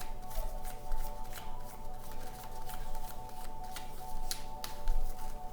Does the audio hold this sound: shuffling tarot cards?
yes